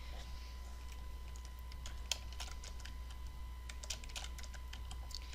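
Soft, irregular clicks of fingers typing on a computer keyboard, faint and close under a steady electrical hum, with no voices.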